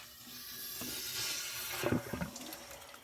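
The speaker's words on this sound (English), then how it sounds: "I have a flat screwdriver, and I'll slowly release the water" Water released from a water heater's drain valve with a flat screwdriver gushes and splashes nearby, a rising hiss with gurgling spatters toward the end, no speech.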